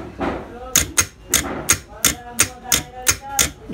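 Repeated hammer blows strike a truck starter motor armature during rewinding, with about nine sharp, close metallic hits falling in a steady, even rhythm.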